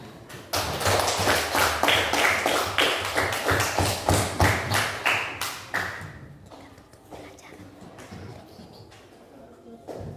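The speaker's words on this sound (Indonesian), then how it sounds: "tepuk tangan dulu" A classroom of students claps together in a dense, loud burst of applause that fades after about six seconds, leaving a few scattered claps and a soft voice.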